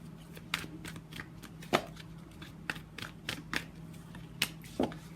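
Tarot cards being shuffled and pulled, giving close, quiet, irregular riffling snaps and flicks with short pauses between them.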